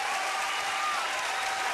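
Studio audience of a Bulgarian TV singing impersonation show applauding after a performance, a continuous full burst of clapping from many hands with no voices over it.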